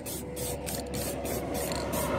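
Spray paint hissing steadily onto a car wheel rim during a final full coat, a continuous close hiss with faint rattling pulses throughout, no voices.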